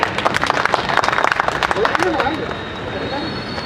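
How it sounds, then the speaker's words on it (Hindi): Loud, dense applause from an audience at a Holi comic poetry gathering, with a rapid crackle of many hands that thins out toward the end as a voice begins speaking. "एक बार जोरदार तालियां"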